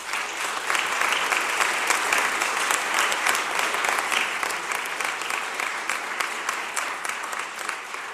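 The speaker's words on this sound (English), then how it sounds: "they deserve a big round of applause" Crowd applause at a city land bank bill signing with the mayor and Philadelphia officials, a sustained round of many hands clapping with distinct individual claps audible, holding fairly steady before easing slightly toward the end.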